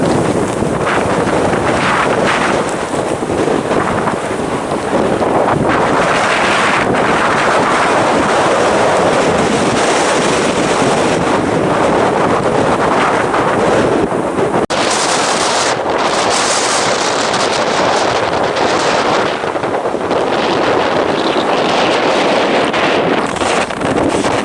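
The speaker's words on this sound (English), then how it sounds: "This place can be a very windy place." Strong, constant wind roars and buffets the microphone on an exposed, hurricane-prone hillside, loud and unbroken throughout with no speech.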